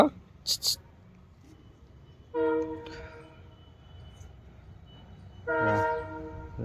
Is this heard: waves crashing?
no